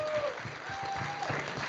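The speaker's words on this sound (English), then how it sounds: "One more time, a round of applause." Audience at a disability film awards show applauds in a brief, moderate burst of clapping with faint voices under it.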